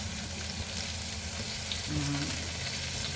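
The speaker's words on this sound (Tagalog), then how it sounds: "Tapos yung gigisa natin yung lemongrass." Lemongrass sautéing in a pan for chicken feet adobo, giving a steady, soft frying sizzle throughout, with a brief low stirring scrape near the middle; no talking.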